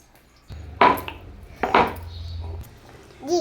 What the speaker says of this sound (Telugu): వెల్లుల్లిపాయలు దంచుతుంది ధన్విక